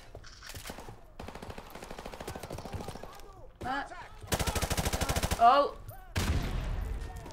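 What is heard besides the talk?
gunfire in the video game Call of Duty 4 Remastered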